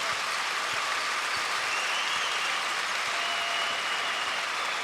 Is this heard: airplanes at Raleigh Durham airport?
no